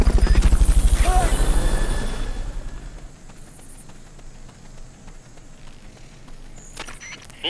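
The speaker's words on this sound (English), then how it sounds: "Fulton recovery subject confirmed onboard helicopter." Helicopter rotor thumping loudly at first in the Metal Gear Solid Peace Walker game, the rhythmic chop fading away over a few seconds into quiet ambient background.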